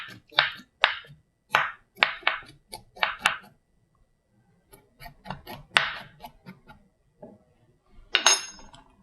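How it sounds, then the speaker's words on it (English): Garlic is peeled by scraping it with a metal spoon, giving a series of short, sharp clicking scrapes that come in quick bursts, pause briefly, then resume close up. "So you don't have to use a knife to peel garlic? No, you can use a spoon."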